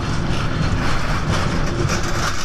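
An express train crosses the old Kalurghat bridge over the Karnaphuli river at slow speed, giving a loud, steady low rumble and rattle of wagons heard from on board, with no voices.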